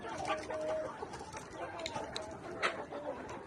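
Layer pullet hens on a farm cluck in short, overlapping calls, fairly close and soft, over a busy background of rustling and other bird noise.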